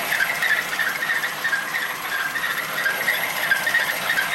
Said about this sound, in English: I think we have a squeaky water pump.